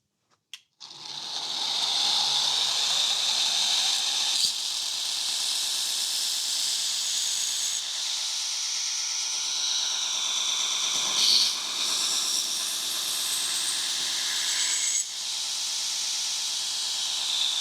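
A belt grinder with a 60 grit belt grinds bevels on a knife blade, a steady, loud hissing rasp that runs continuously after a brief start, with small surges, sped up, no talk.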